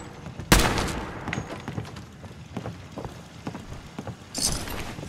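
Gunfire in Fallout 4, a sharp loud shot followed by scattered quieter pops and crackling impacts over several seconds, with a brighter burst near the end.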